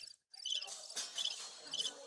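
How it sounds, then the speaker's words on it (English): A crickets chirping sound effect played at a saber and longsword fencing tournament, high trilling pulses that start after a brief silence and continue steadily, fairly faint with some room noise. "Enough crickets."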